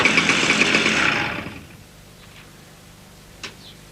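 A loud buzzing motorcycle engine dominates the first second and a half, then fades away quickly, leaving quiet background with a brief faint knock near the end.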